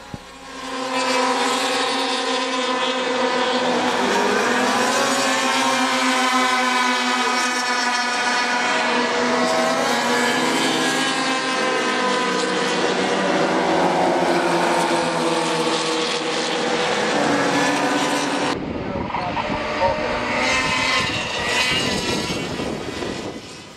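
Formula 5 and Formula Vee race cars climb a steep hill toward the start-finish line at an SCCA June Sprints race, their engines droning loud and steady for a long stretch before the sound cuts abruptly to another engine note.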